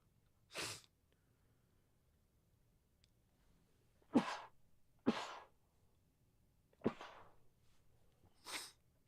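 A person sneezes five times in a quiet room, sharp close bursts spaced a few seconds apart with near silence between them.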